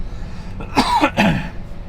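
Two short, harsh coughs in quick succession, close and fairly loud, with a brief pause between them and quiet background before and after.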